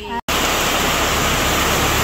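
Heavy rain falling steadily, a dense, loud, continuous hiss that starts abruptly after a brief gap and fills the whole stretch without letup.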